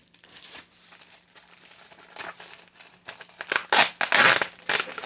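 Christmas paper napkins in their plastic packaging being torn open and unwrapped, a stretch of close crinkling and rustling that builds into louder bursts of crumpling near the end, with no talk over it.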